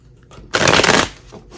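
A tarot deck gets one quick, crisp shuffle, a dense papery burst lasting about half a second and heard up close between quiet moments.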